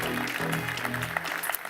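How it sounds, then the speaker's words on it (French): An audience applauds a guest from an aluminium company being welcomed to the table at an architecture industry event, a brief, dense patter of clapping under a low hum. "On peut l'applaudir bien fort"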